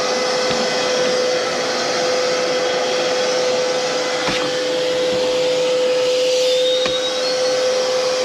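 A vacuum cleaner sucking inside an Audi A3 being cut into a pickup, a loud steady motor whine with a sharp constant tone, broken by a few brief knocks and thuds as the nozzle moves about, alone without talk.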